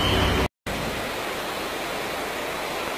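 A waterfall gives off a steady broadband rushing roar, constant and fairly close. One brief dropout interrupts it near the start.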